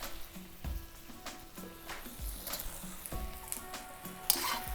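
Eggplant cubes sizzling in a hot pan on high heat for a Mapo Eggplant dish, a steady crackling fry with occasional stirring knocks, moderately loud and close, no voices.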